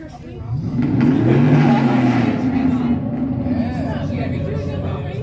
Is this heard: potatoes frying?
no